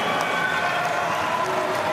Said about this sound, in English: For this crowd to go insane.